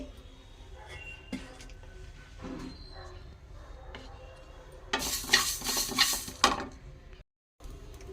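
Green chillies and tomatoes frying in a pan for coriander chutney, heard as faint sizzling with occasional utensil scrapes and stirs, then a louder burst of vigorous stirring and crackle before a brief cut to silence.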